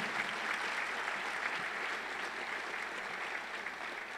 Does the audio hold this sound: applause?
yes